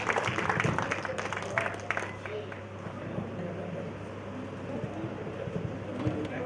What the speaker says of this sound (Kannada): ಅವ್ರಿಗೊಂದು ಜೋರಾಗಿ ಚಪ್ಪಾಳೆ